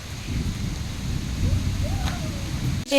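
Steady rain from a storm pours down as a dense, close hiss, with a brief whistling tone and an abrupt clatter at the very end.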